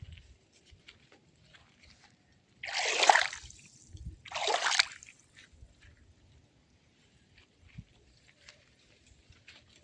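Two short bursts of splashing water about a second apart in a coconut grove farm channel, moderately close, with quiet low rumble and faint background sounds otherwise.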